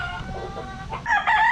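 Gilmore red gamefowl on a game farm in the Philippines give a loud, close rooster crow that rises in the second half, with low clucking beneath it.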